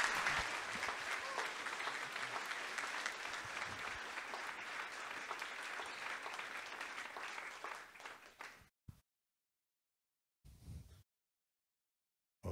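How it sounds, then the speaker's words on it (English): A big audience applauds Holly and Lucas VanBerkel at a 2024 champion reception, sustained dense clapping that tapers off and cuts out, followed by a couple of faint brief bursts near the end. "ladies and gentlemen, let's give a big round of applause to Holly and Lucas VanBerkel"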